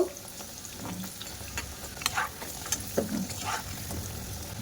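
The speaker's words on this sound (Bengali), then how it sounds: "মিডিয়াম ফ্লেমে মিষ্টিগুলো ভাজা করে নিতে হবে" Khaja sweets made from leftover rice frying in oil over a medium flame, a soft continuous sizzle with occasional light clinks and stirring scrapes.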